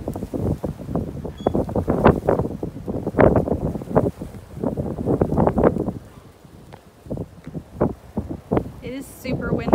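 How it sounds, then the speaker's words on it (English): Strong wind buffets the microphone in heavy, rumbling gusts that rise and fall, with a brief lull before gusting again. "It is super windy over here."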